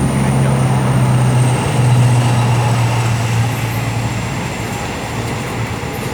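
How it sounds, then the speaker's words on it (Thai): A freight train hauling cement wagons rolls past close by at a railway crossing near an old market, a loud, continuous rumbling roar with a steady low drone and a faint high whine. "รถไฟใกล้จะถึงแล้ว"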